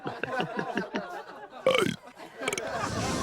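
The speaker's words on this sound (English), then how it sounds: "I'm gonna burp popular songs" Someone burps out a popular song in a rhythmic series of short burps, followed by a longer drawn-out belch and a burst of laughter and chatter, close and fairly loud.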